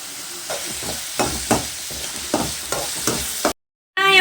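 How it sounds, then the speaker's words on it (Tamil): Food sizzles in a hot pan while a utensil stirs and scrapes in a steady rhythm, sautéing until golden with the pan starting to stick, close up, then a brief silence before the sizzling returns. "பொன்னிறமாக ஆகிற வரைக்கும் நல்லா வதக்கிக்கலாம்"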